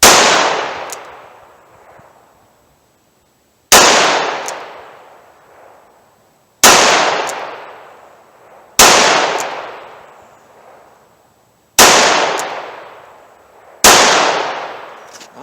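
Six sharp, loud shots from a Smith & Wesson Model 64 revolver firing .38 Special +P rounds, spaced about two seconds apart, each ringing off into a short decaying echo.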